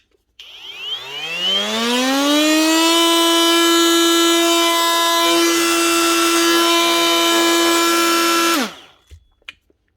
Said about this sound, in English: One Panasonic multi-tool EY45 A5 with a new 6000 bearing.